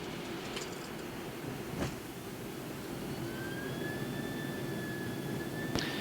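Icelandair Boeing 767-300ER jet engines roaring in reverse thrust after landing, heard from the cockpit as a steady broad rumble with a rising whine, plus a few sharp clicks.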